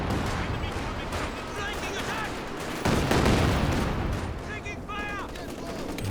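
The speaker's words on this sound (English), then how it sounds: "Senior artillery coming down onto the machine gun, opening up the capture in the centre for the Allies." Artillery shells and machine-gun bursts in a Company of Heroes 2 match, a dense battlefield din of overlapping shots and impacts, with a heavier rumbling blast about halfway through and scattered whistling tones over a constant roar.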